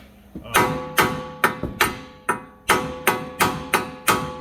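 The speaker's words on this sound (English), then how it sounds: "let me see if I can't just knock it out with a hammer first" About ten sharp metal hammer blows knocking out a car wheel bearing strike in a steady rhythm, loud and close, each ringing briefly before the next knock.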